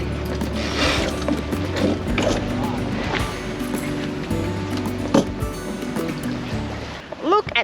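A sailboat winch ratchets as the sail is hauled up, making rapid mechanical clicking in short bursts over wind and water noise, with a few sharper knocks near the end.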